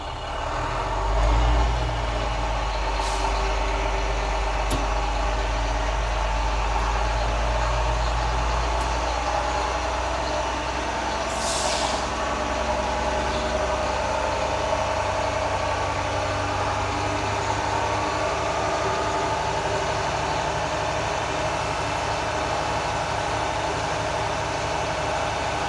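A tractor trailer's diesel engine idles steadily while building air-brake pressure, a deep continuous rumble close by with a brief hiss of air partway through, and no talking.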